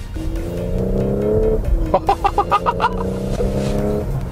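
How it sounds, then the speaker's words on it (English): A 2017 Audi SQ5 SUV accelerates hard, its steady engine drone interrupted mid-run by a gear shift that releases a quick series of exhaust burbles and pops, then the engine note resumes, loud and close. "with each gear shift, you get that nice burble coming out."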